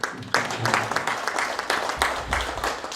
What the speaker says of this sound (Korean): 우리 올봉 선생님 오셨는데 우리 큰 박수로 한번 맞아주시기